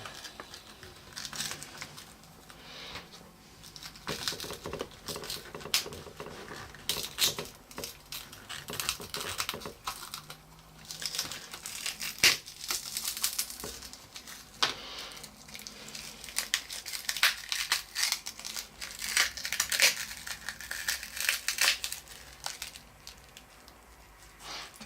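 Rear glass panel being pried off a Huawei P8 Lite phone, breaking away in pieces with faint, irregular crackling, clicking and crinkling snaps throughout, close and quiet with no talk.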